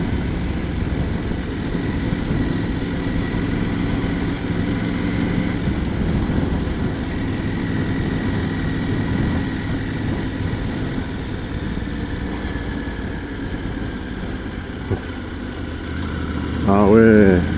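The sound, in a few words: Triumph Tiger 900 GT Pro motorcycle engine, shifting gears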